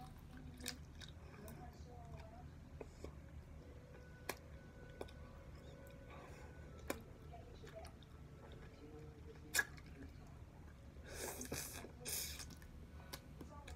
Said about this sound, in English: And then chew it like so.